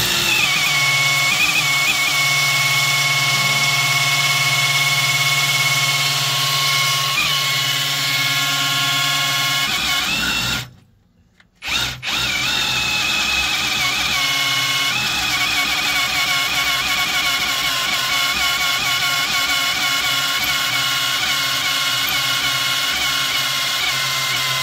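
A V8 engine on a rebuild drones steadily with a rough, mechanical hum, cutting out briefly midway before resuming at a similar level.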